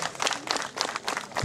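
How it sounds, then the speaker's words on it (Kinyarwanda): Clapping from a gathered congregation at an Umuganura harvest celebration in a parish, brief bursts of applause rising and falling in quick waves over a short stretch. "Amashyi menshi kuri"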